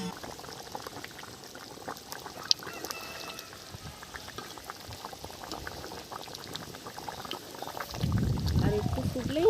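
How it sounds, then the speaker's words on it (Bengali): A thin curry of latha fish simmers in a pot, giving a soft steady bubbling under quiet background noise, with a louder gurgling burst near the end. "আর একটু ফুটলেই নামিয়ে নেব"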